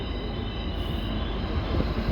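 A train rolls through the Spiral Cut with a continuous low rumble of wheels and cars on the rails, steady and fairly close throughout.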